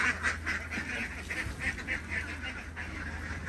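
Laying ducks on a farm in Non Sung, Korat quack and honk in a steady, busy chorus, a flock close by with overlapping calls and no talk.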